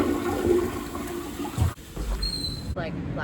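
Water drains away in a continuous gurgling rush, fairly close and steady, then breaks off into short trickles and faint splashes after the main flow stops.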